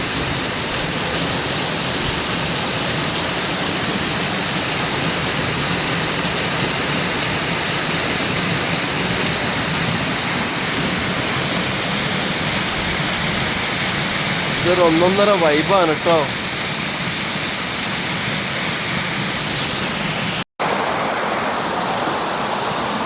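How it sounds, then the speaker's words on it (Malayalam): Meenmutti waterfall in Banasura, Wayanad, sends frothing water crashing down with a steady broadband roar, close and continuous. A voice speaks briefly over the rush. "ഈ വാട്ടർഫാൾസ് ഇങ്ങനെ പതഞ്ഞൊഴുകുകയാണ് താഴേക്ക്."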